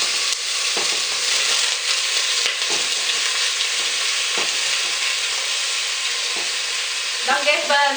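Pork sizzles loudly and steadily in a hot pan with garlic and onions for caramelized pork, with occasional clatters from stirring and a brief voice near the end.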